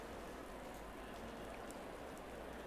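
Rain falling on a sim racing track at the Nurburgring during a GT4 race, a faint steady hiss of rainfall with soft pattering, continuous and even with no voices.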